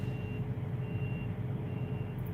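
A truck backing up in traffic gives a steady electronic reversing beep over a constant engine rumble, the tone repeating evenly for the whole stretch.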